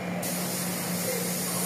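A spray gun applies a first coat of color to a Toyota Wigo car panel, a steady close hiss that starts abruptly and continues without pause.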